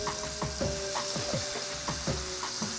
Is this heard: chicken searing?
yes